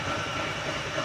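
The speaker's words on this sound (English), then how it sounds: "You can hear my compressor running in the background." An air compressor runs steadily in the background of a car restoration workshop, a continuous loud drone that stays even throughout, with no voices over it.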